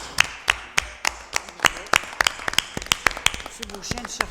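A few people clap at a municipal council regular session, sharp separate hand claps in an uneven rhythm with quieter claps scattered between them and a voice briefly under the end.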